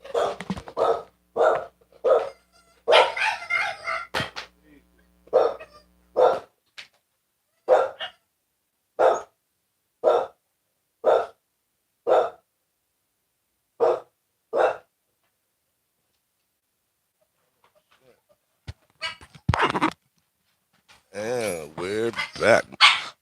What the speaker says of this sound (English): The dog pound is alerting.